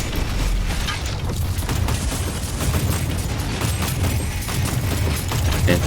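Sustained rapid weapon fire in the video game Warhammer 40,000: Inquisitor - Prophecy: a dense, continuous barrage of booming shots and mechanical clatter that holds steady and loud throughout with no pause.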